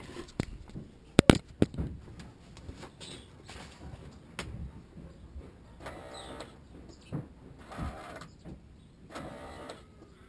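A 4WD engagement module on a V8 Hilux, just wired in, switching on with sharp clicks and snaps near 1.3 seconds, followed by intermittent faint whirring bursts and rattles close by under the car.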